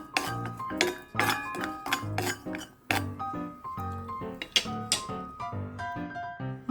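Garlic dry roasts in a pan while a metal utensil strikes and scrapes it in a quick, rhythmic run of bright clanks and rattles, close and fairly loud, with no voices.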